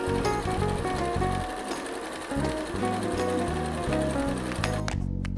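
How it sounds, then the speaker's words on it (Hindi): A sewing machine runs steadily, stitching pieced fabric together for a quilted cushion cover, its rapid mechanical chatter loud and close, pausing briefly before resuming and stopping at the end. "और अब इसको हम सिलेंगे"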